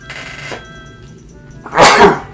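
A single loud, close sneeze bursts out near the end, after a quieter stretch of room noise during a video game session.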